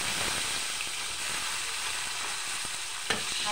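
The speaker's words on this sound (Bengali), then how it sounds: "এই তেলে আমি বেগুন ভেজে নেব" Eggplant fries in oil with a dense, continuous hiss and crackle, close and fairly loud, with a single brief clink near the end.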